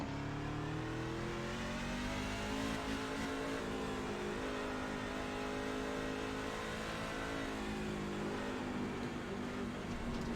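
A race truck in the iRacing sim at Road America accelerates hard on worn, hot rear tires, its engine revving steadily and loudly for the whole stretch with no voices over it.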